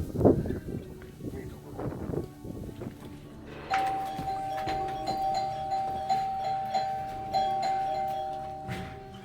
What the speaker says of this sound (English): This is my style of ringing a bell.